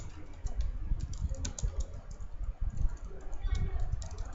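Someone types a title into Notepad on a computer keyboard, giving a run of close, quick key clicks in an uneven rhythm that continues throughout.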